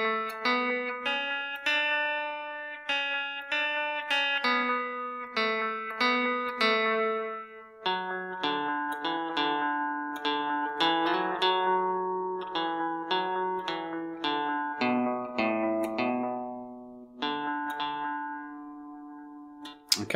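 A clean guitar picks out a melodic section, with single plucked notes ringing in a steady, measured rhythm, close and clear, with no voices.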